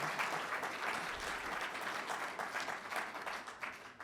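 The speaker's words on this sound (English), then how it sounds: "can we please have a big round of applause for our panelists?" An audience at an annual conference session on housing development applauds its panelists, a dense, sustained patter of many clapping hands at fairly even volume throughout, filling the room with no speech over it.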